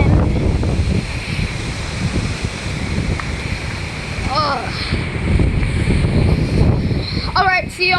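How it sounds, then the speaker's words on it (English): Strong hurricane wind roars steadily and loudly throughout, a dense continuous rush close to the microphone with gusty buffeting and a few faint chirp-like sounds near the end. "there is still a lot of wind"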